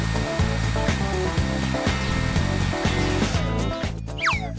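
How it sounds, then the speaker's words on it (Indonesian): A hair dryer drying hair runs steadily and loudly up close, its even whir pulsing slightly in a regular rhythm, with no voices. "Ayo keringkan rambutnya pakai ini"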